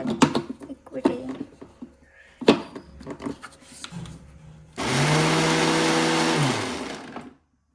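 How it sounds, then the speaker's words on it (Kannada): Knocks and clatter as a mixer grinder jar of peanuts is fitted and locked, then the motor starts and whirs loud and close for a few seconds before winding down and stopping. "ಕಡಲೆ ಬೀಜನ ಮಿಕ್ಸಿಗೆ ಹಾಕ್ಕೊಂಬಿಡೋಣ"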